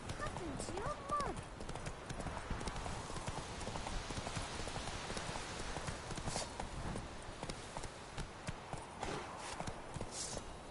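Roach the horse, in The Witcher 3, clip-clopping along in a steady run of hooves throughout, with a brief whinny near the start and a voice speaking over the hoofbeats.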